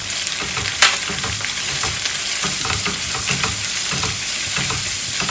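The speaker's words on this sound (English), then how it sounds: "Fry for a minute or two." Spices sizzle and fry steadily in a pan for Anglo-Indian fish mollie, with coriander powder in the oil, a continuous crackle with occasional stirring scrapes and one sharper clink near the start.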